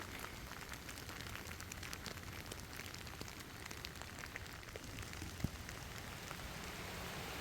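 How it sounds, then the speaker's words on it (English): Heavy rain pours at a foggy lake viewpoint in Maskeliya near Hatton, Sri Lanka, a dense steady hiss of drops drumming on surfaces, with one sharp nearby tap partway through and no voices. "It's rainy and very foggy."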